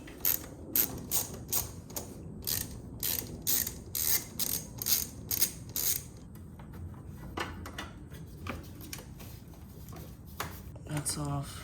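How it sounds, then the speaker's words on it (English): A ratchet wrench loosens a 10 mm battery terminal nut on a mini truck. Quick bursts of close, crisp clicking repeat steadily at first and then come more sparsely, with a voice faintly present. "Now we're gonna take off the terminal ends on the negative and positive."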